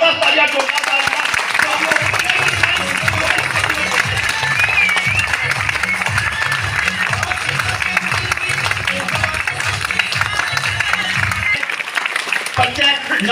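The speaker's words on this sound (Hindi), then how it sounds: "जबरदस्त तालियां, जोरदार तालियां।" A crowd at a training meeting claps loudly and continuously while rhythmic music with a steady beat plays underneath, the applause sustained for over ten seconds before tapering off.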